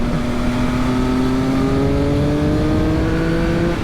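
A 2020 Triumph Speed Triple RS super naked road motorcycle accelerates hard, its engine note climbing in a steady, smooth pitch rise, loud and close throughout with no voices.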